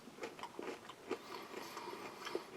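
Dry cream crackers from an Australian army combat ration crunch under close, faint bites, with a few sharp cracks over soft chewing.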